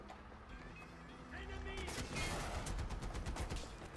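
Enemy guns fire in Far Cry 4 map editor gameplay, starting faint and thickening into a steady rattle of rapid shots over a few seconds, moderately distant, with no talking.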